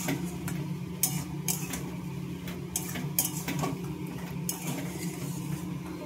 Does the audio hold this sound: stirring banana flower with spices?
yes